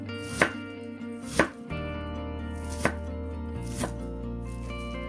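A knife chops Chinese cabbage into small shredded pieces on a board, four distinct sharp cuts spaced about a second apart, close and clear with no talking.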